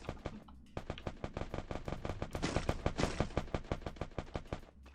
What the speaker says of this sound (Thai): เขายิงกันตรงไหนไม่รู้แหละ